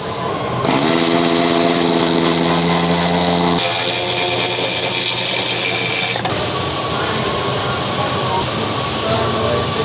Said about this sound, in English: Removing the bolts.